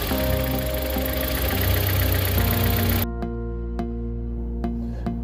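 Suzuki Baleno car engine idling smoothly, a steady low hum with faint regular ticking, close and loud, the broader noise cutting away partway through to leave the quieter idle with a few sharp clicks.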